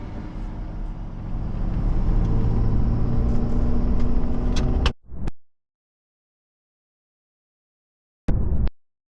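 Truck rolling onto an I-75 on-ramp, a steady loud engine rumble building for about five seconds before cutting off abruptly, then a short burst of the same rumble near the end.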